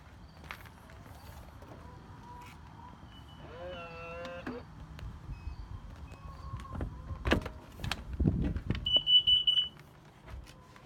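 A carbon monoxide alarm sounds indoors, giving a short run of shrill, high pulsed beeps near the end after quiet shuffling and door-like knocks.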